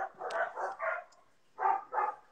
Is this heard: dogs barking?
yes